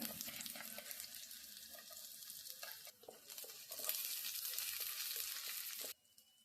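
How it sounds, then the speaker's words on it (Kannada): Finely chopped garlic frying in a pan for a mushroom pepper fry, a steady close sizzle with light stirring scrapes that breaks briefly around the middle and drops off abruptly near the end. "ನಾವು ತುಂಬ ಸಣ್ಣದಾಗಿ ಹಚ್ಚಿರುವ ಬೆಳ್ಳುಳ್ಳಿಯನ್ನು ನಾವು ಹಾಕ್ತಾ ಇದ್ದೀವಿ"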